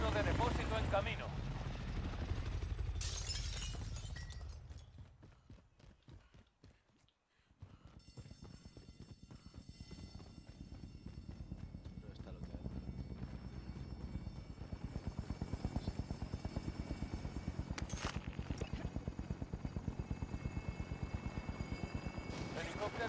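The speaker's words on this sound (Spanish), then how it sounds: "Helicóptero de depósito en camino." A helicopter in the video game Call of Duty approaches, its rotor chopping in a rapid steady pulse that grows nearer and louder, after an earlier burst of noise and a brief quiet, with game radio voices talking over it.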